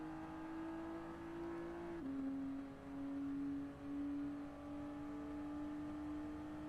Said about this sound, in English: We're literally pushing this car with full engine damage